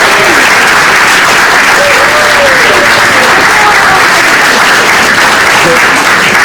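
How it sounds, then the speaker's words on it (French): Loud, dense theatre audience applause at the close of a finale performance, steady and sustained throughout, filling the room. "Une petite main d'applaudissement pour Luc."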